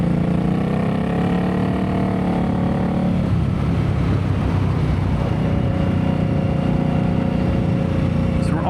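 An Indian Scout motorcycle engine hums steadily during a short ride with frequent stoplights. The drone shifts in pitch and texture partway through, like the bike changing speed, and carries on continuously throughout.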